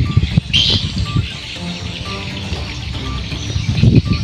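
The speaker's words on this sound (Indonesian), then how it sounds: "bising suara akibat suara walet seperti yang ada di sekitar saya" Faint, high chirping calls of swiftlets come through a busy, murky background with a trickling, watery texture.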